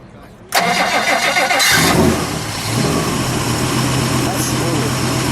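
A 1957 DeSoto Firedome V8 cranks briefly and catches, surging loudly before settling into a steady rumbling idle, close by, with voices present.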